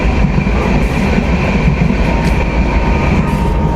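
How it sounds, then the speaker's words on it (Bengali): A train on the route to Darjeeling gives off a steady, continuous rumble and rolling rail noise, loud and even throughout with no voices. "ট্রেনটা যাচ্ছে কীভাবে শুধু একবার চিন্তা করুন"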